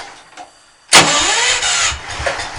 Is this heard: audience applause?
no